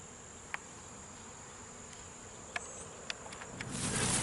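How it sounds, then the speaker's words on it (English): Bees hum faintly and steadily around yellow flowers on floating water plants outdoors, with a few soft ticks and a rising rustle of wind or movement at the end. "So even the water plants are feeding the bees."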